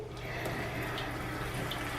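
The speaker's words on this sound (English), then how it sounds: "you're going to go ahead and get your water going to a temperature that is comfortable for you" Water runs from a tap into a sink at a comfortable temperature for washing makeup brushes, a faint steady trickle heard close up with no voices.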